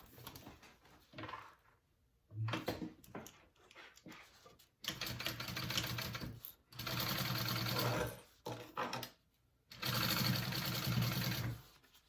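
Sewing machine stitching two fabric panels of a crossbody bag together at a half-inch seam, running in several loud bursts of rapid whirring separated by short pauses and quieter stretches.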